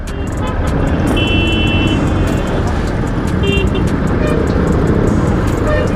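Dense road traffic near Napier, a loud continuous roar of cars, buses and trucks passing close by, with occasional horn toots over the steady rumble.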